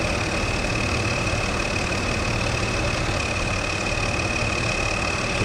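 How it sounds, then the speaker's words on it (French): An old three-speed tractor with a turbo idles steadily, a continuous close engine drone with a faint high whine running through it and no change in pace. "Je vais en profiter pour le laisser tourner et regarder le tracteur."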